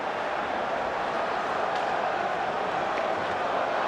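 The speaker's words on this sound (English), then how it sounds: "That drew some response from the crowd." Crowd at a 1993 NHL playoff game between the Vancouver Canucks and Winnipeg Jets, a broad, steady roar filling the arena at constant loudness, with faint voices inside the din.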